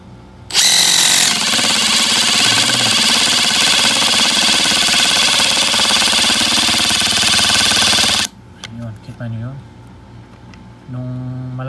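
A Makita DTS141 oil-pulse driver drives a screw, a loud continuous whirring buzz lasting about eight seconds before stopping, followed by brief clunks and a short second burst, with speech around it.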